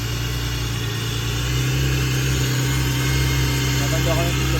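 A BMW E30 3.0L six-cylinder engine with a full stainless steel exhaust idles steadily and loudly, a low, even rumble with a constant hum that holds throughout without revving.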